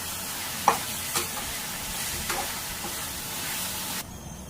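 Curry leaves being stirred into a sizzling fish curry masala for nethili (anchovy) kulambu, with a couple of sharp scraping taps of the spoon over a steady frying hiss that cuts off near the end.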